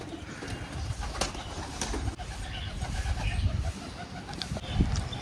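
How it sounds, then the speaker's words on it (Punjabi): Pet pigeons released from their coop give soft, repeated throaty coos amid fluttering and shuffling, close by, with a few sharper wing flaps and other fowl sounds nearby. "ਲਓ ਮਿੱਤਰੋ ਕਬੂਤਰ ਬਈ ਆਪਣੇ ਸਾਰੇ ਬਾਹਰ ਆ ਕੇ ਬਹਿ ਜਾਓ"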